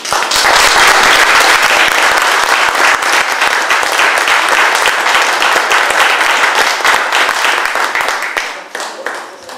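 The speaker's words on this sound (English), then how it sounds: "Let's give a good round of applause for that." Sustained audience applause fills the room at the closing and raffle ceremony of a 2011 dive event, loud and dense from the start, then thinning and fading over the final second.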